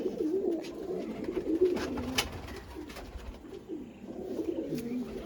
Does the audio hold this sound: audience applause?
no